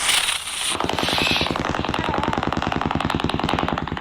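A rapid string of Diwali firecrackers bursts nearby, a loud, steady crackling chain of sharp pops after an opening hiss of burning fuse, each bang echoing slightly, with no talk over it.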